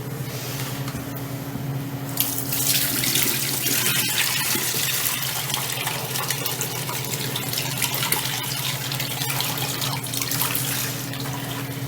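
A tap runs steadily into a basin while soak water for washing cloth pads is changed, a loud, continuous close-up gush of water lasting the whole stretch, with no voices.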